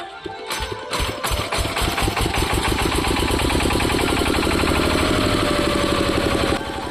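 An 8 kVA generator cranks with a few sharp chugs, then catches and settles into a loud, steady mid-pitched engine drone that holds close and constant to the end, with no voices over it.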